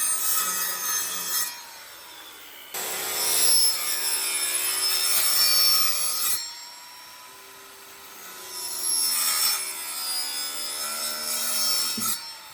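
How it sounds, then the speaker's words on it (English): A circular saw cuts into a vinyl fence post in three loud bursts of high, whining blade noise, separated by quieter stretches of the motor running down and idling, close and without speech. "take a circular saw, and you could actually just place the circular saw down on the longer ends of your holes and start the holes that way"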